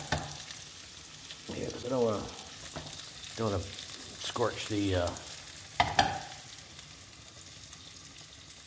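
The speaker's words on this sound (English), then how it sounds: "don't want to scorch the garlic and the shallots there." Garlic and shallots sauté in a pan as pasta sauce begins, a continuous close sizzle running beneath a man's brief speech, with a couple of sharp clinks of a utensil near the end.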